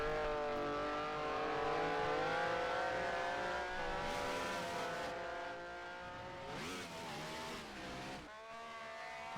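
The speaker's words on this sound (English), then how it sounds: "I hear a car." A racing car engine in the sim racing game Grand Prix Legends roars loudly and steadily, pitch shifting as it revs and passes, with a brief squeal-like sweep near the end; no talking.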